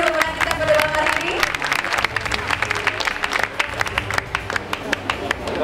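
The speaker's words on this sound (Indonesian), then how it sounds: "Boleh berikan tepuk tangan yang meriah untuk seluruh pemenang kita pada malam hari ini" An audience applauds the winners at an evening event with sustained, dense clapping and some cheering, the crowd noise steady and close with a voice briefly over it at the start.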